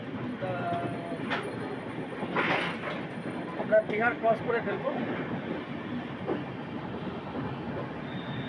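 Shatabdi Express from New Jalpaiguri to Howrah rolls steadily along the rails, a continuous rumble from inside the carriage with a few brief clanks, while someone talks over it.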